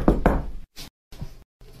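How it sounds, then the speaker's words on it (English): Knuckles rap on a door in short bursts, two heavy knocks followed by a few more separated by brief silences, loud and near with no talking. "Monoma, go ahead and knock on that door."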